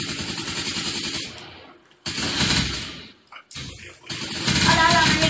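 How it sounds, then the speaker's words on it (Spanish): Enemy gunfire in a team-duel video game: loud, rapid automatic bursts crackle in three dense volleys separated by short silent gaps. "Detrás tuyo te está disparando uno"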